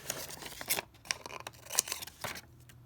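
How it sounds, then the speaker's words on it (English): Scissors cut off part of a paper envelope for a junk journal, making a series of quiet, close snips and crisp paper crunches. "Just cut this part off."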